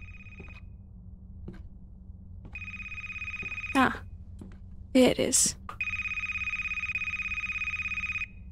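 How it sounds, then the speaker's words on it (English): A telephone rings in a video game set in a library, with a steady electronic double-tone ring that starts, pauses while a person speaks, then rings again for several seconds. "Answer the damn phone."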